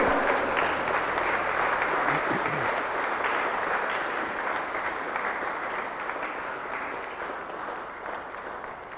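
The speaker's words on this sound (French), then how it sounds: "Bravo, bravo les parents, bravo, applaudissements les parents." A church congregation at a Saturday Mass at St Patrick claps for the parents, a full, even roll of applause that slowly tapers off over several seconds.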